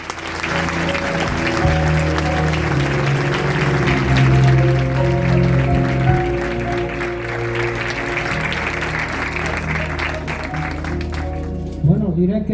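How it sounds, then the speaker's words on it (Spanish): Loud, sustained applause from an award ceremony audience honoring José Luis, with a continuous tone or music beneath the clapping until it tapers near the end. "Un fuerte aplauso para José Luis."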